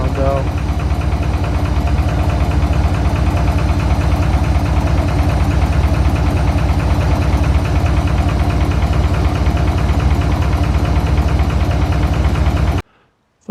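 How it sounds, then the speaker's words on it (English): Idling engine, apparently a 312, in a 1956 one-off steel sports car barn find, running with a steady rhythmic knock and ticking over a loud mechanical hum. It cuts off abruptly near the end. "Don't like that knocking sound though."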